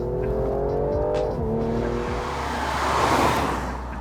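A Mercedes-AMG C43 4MATIC sedan engine revs up and rises in pitch, exhaust growling loudly nearby before easing off.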